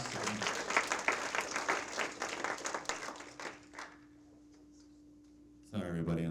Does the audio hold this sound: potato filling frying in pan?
no